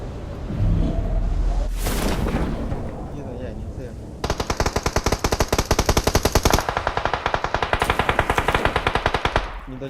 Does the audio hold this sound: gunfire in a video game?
yes